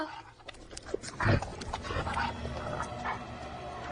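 A dog gives a short bark partway through, under a busy, noisy background with low rumbling and scattered clatter.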